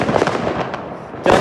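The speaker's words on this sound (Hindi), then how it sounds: "हमारे प्रणय भैया हाथ में चलाएंगे रॉकेट" A hand-held firework rocket launched among friends at Diwali: a short whooshing burst at the start, a fainter hiss trailing off, then a sharp loud crack near the end, with no talk.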